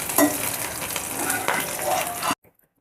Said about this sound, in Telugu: ఇప్పుడు మనం ఆయిల్ కాగితే మిర్చి వేసుకుని వేపుకోవాలి.